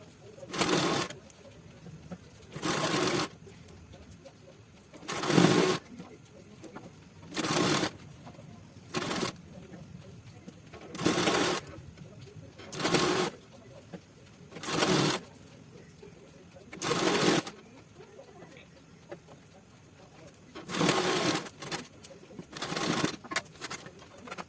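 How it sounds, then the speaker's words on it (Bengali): A sewing machine stitches a kaftan kurti in short, repeated bursts, about a dozen quick runs of whirring separated by brief quiet pauses, close and moderately loud. "এইবার আমি স্টিচিংটা করে নেব।"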